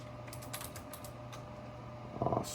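Keys clatter on a computer keyboard as location names are typed, with scattered quick taps early on and a tighter burst of keystrokes near the end, heard close against a low background hum.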